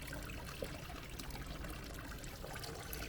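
Sakamizu spring water trickles steadily at the Gekkeikan sake museum in Fushimi, Kyoto, a close, continuous splashing wash with no pauses or voices.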